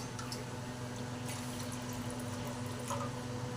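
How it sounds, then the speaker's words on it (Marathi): Water is poured from a small pot into a kadhai fitted with an idli stand for steaming, a faint, steady trickling flow heard close by without talk. "ह्याच्यामध्ये 1 तांब्या इतकं पाणी घालते"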